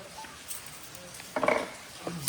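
Pasta being stirred in a pot while cooking outdoors in the hills: quiet scraping followed by a short burst of metallic clatter from a spoon against the pot, then a few more clinks.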